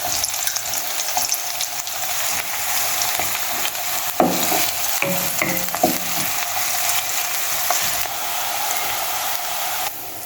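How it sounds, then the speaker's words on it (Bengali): Chopped onion, green chili and spring onion fry in hot oil, a loud dense sizzle with stirring scrapes and a few knocks of a utensil partway through, no speech. "তেলের মধ্যে পেঁয়াজ কুচি আর মরিচ আর পেঁয়াজ কলি দিয়ে দিব।"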